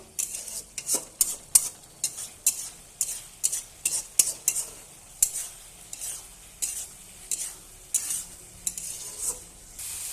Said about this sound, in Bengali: এবার আঁচ বাড়িয়ে ভালোভাবে একটু কষিয়ে নেব